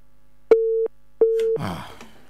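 A call-in phone line gives two evenly spaced busy-signal beeps, clean steady tones each lasting about a third of a second, followed by a short burst of noisy line static.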